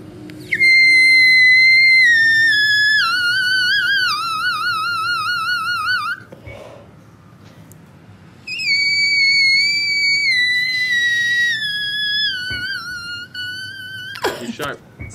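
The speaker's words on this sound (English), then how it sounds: "This is just a scale that Alex sang." A voice sings high, pure whistle-register notes in a wavering scale, pauses briefly, then sings another stretch of climbing and falling whistle tones.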